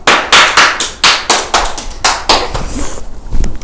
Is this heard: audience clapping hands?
yes